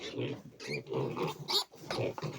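Piglets squeal and grunt in a shrill, restless chorus in a pen, the calls rising and falling in quick overlapping bursts close by.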